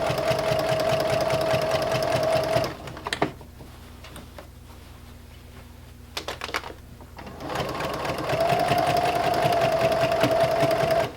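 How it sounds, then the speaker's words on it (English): A sewing machine stitches through basted quilt fabric in steady, fast bursts, stopping for a few seconds of quiet with faint clicks before running again at the same even pace. "we're just going to start stitching"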